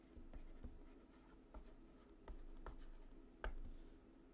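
A pen or chalk writes on a board in a quiet room, scratching out a line of text in short, irregular strokes with sharp taps between them, close and fairly faint.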